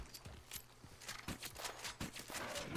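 Horse hooves clip-clop in a quick, uneven rhythm in the Red Dead Redemption video game, close and clear over a bed of steady game noise.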